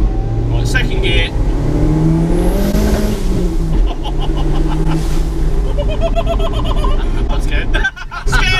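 A Ford Transit Connect van swapped to a 400+ bhp Zetec turbo engine accelerates hard in second gear, its engine note rising loud and close from inside the cabin while people talk excitedly over it.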